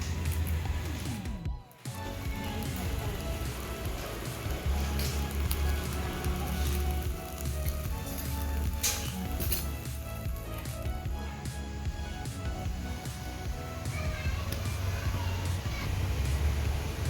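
Ada roasting in a pan on the stove: a steady crackling sizzle continues for a long stretch, close and fairly even, with clattery scraping sounds mixed in and a brief dip near the start.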